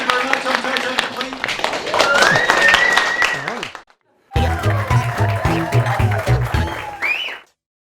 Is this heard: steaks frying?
no